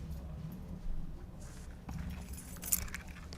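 Keys jangle close by in a quiet room over a low background rumble, with light metallic clinks building toward one brighter rattle near the end.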